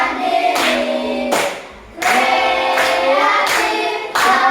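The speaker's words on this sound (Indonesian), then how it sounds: "Tepuk tangan." Classroom students clapping their hands together in loud, close bursts of rapid applause, with a short pause partway through before the clapping resumes and keeps going.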